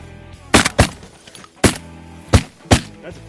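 Shotgun blasts fired while duck hunting, five sharp, loud reports spaced unevenly across a few seconds, heard close up against outdoor background noise.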